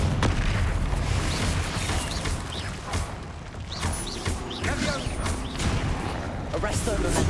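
Confringo blasting curses from Hogwarts Legacy boom out as heavy, overlapping explosive bursts. Shouted spell incantations run alongside them in a dense, continuous barrage.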